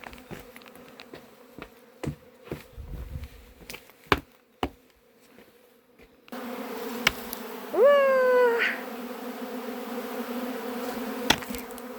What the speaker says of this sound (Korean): 이렇게 꿀벌이 많으면 좋겠다, 야.